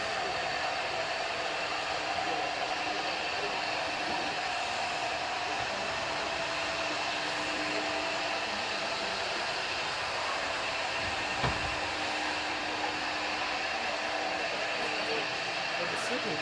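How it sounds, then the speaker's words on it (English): A vacuum runs continuously during epoxy floor coating work, a loud, unbroken whirring roar that holds steady throughout. "I'm just gonna use that same vacuum on this one."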